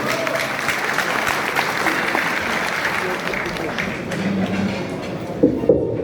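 Sustained applause from a large audience at a political speech, a dense steady patter of clapping that continues for several seconds, with a few louder claps near the end.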